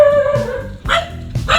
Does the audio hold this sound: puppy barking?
yes